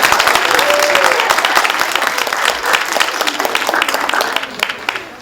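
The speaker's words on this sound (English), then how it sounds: "You can applaud them." Audience applause at a Kappa Delta Pi education honor society induction ceremony, a dense, steady crackle of many hands clapping for the inducted students that carries on for several seconds, with a brief murmur of voices underneath.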